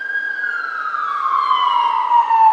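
An ambulance siren wails steadily at a distance in a quiet outdoor setting in Hawaii, its single tone gliding slowly downward as it passes.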